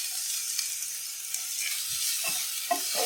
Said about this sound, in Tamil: இப்போ நம்ம நறுக்கி வச்சிருக்க பூண்டும் பச்சை மிளகாவும் ஆட் பண்ணிக்கிறேன்.